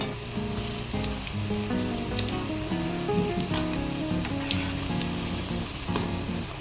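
Bread pakoda pieces frying in hot oil give a steady, close sizzle with bursts of crackling bubbles throughout, alone without talk.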